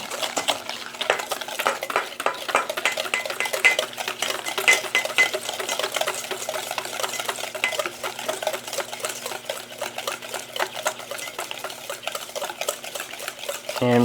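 Sugar and eggs being mixed in a bowl for a summertime clafoutis, a steady fast rhythmic whisking clatter that runs continuously and evenly for the whole stretch, fairly close, with no talk over it.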